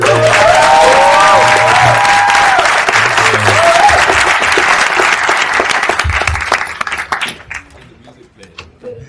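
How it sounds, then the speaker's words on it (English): Audience at a film screening event bursts into loud, sustained applause with cheers and whistles, a thick wash of clapping that gradually thins into scattered claps toward the end, with voices mixed in. "One more round of applause."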